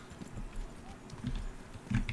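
Horse hooves clopping in Kingdom Come: Deliverance, a few soft irregular footfalls building to a louder cluster near the end, with low background game ambience.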